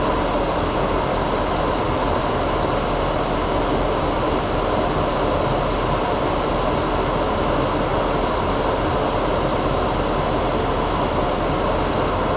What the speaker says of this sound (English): I could have turned the dust collector off a while ago.